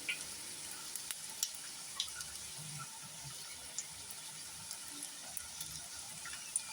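An Arabian stuffed rice roll fries on its second side in a pan, a soft continuous sizzle with small scattered pops and crackles, quiet and steady.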